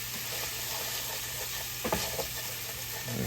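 Garlic sizzles steadily in a frying pan while a home-style Sunday dinner is cooked, a constant close crackle with a brief clatter of stirring near the middle.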